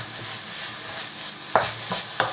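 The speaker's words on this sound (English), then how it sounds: "And I'm just going to stir fry them. Stir them all together." Vegetables stir-fry in a pan over a medium-low flame: a continuous hiss of frying, broken by three sharp spatula scrapes against the pan near the end.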